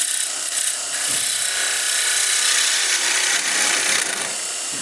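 A 1/2-inch Thompson spindle roughing gouge cuts into spinning wood while a small ornament is turned on a lathe, making a continuous loud, close scraping hiss with slight rhythmic variation and no speech.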